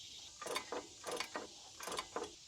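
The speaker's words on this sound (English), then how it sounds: "Pulling off the thermostat housing too." Thermostat housing being worked loose on a Jeep YJ 4.0L engine, a few close, sharp metallic ratcheting clicks in quick pairs against a quiet background.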